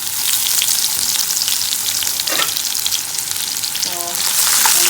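Hot pepper frying in a pan while being stirred, a loud, close, continuous sizzle with a few scraping stirs, no talking.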